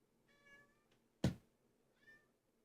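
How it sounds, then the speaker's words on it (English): A pet cat named Fisher meows insistently indoors, two drawn-out harmonic cries about a second and a half apart, with a sharp thump between them, close and moderately loud against a quiet room. "he keeps meowing and it's driving me crazy"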